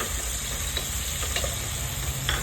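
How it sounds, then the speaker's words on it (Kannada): Chopped onion fries with spices in a pan for coriander rice, giving a continuous soft sizzle and crackle with faint scrapes from stirring, heard close up with no talking. "ನೆಕ್ಸ್ಟು ನಾವು ತೊಗೊಂಡಿದ್ದು ಒಂದು ಈರುಳ್ಳಿನ ಫುಲ್ಲು ಹಾಕ್ಕೊಳ್ಳೋಣ, ಕ್ಲೀನಾಗಿ ಫ್ರೈ ಮಾಡ್ಕೊಳ್ಳೋಣ."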